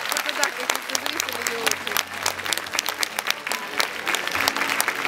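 An audience applauds at an awards ceremony of the Golden Antelope festival-competition: dense, sustained clapping from a crowd, loud and continuous throughout, with voices audible beneath it.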